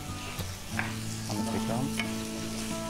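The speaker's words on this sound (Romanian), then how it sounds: "Punem ciupercile la gătit și le lăsăm 10 minute." Mushrooms frying in a pan for a mushroom stew, a steady close sizzle and crackle with light stirring throughout, no voices.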